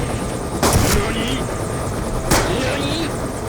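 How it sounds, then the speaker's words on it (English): A friendly helicopter in the Black Ops 2 video game thrums steadily through the scene, with two sharp bursts cutting in over the rotor noise. "we get dramatically saved by this friendly helicopter"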